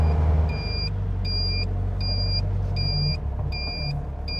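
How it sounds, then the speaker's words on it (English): A Caterham Seven 270S sounds its indicator buzzer as a loud, regular series of high electronic beeps over the car's steady engine rumble. "That's the indicator sound, it's very loud."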